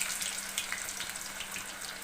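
Fish pieces sizzle in hot oil, a dense, steady crackling hiss heard close up and alone, with no voices.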